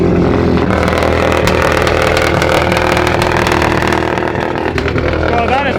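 A rod-knocked 2016 Subaru STI engine revs hard and loud up close, a continuous mechanical roar with rising and falling pitch, ending in a sweeping rev near the end.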